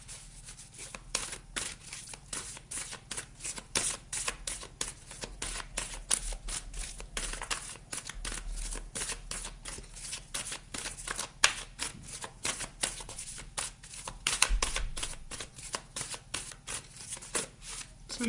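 Oracle cards shuffled and handled for a Pisces reading, with dense, rapid papery flicks and snaps running continuously at close range with no voice.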